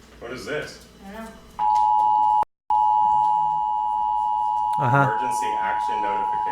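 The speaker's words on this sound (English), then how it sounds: "Emergency action notification." Emergency action notification alert tone from a national emergency broadcast on TV: a loud, steady high pitched beep holding for several seconds with a brief dropout, as people talk over it.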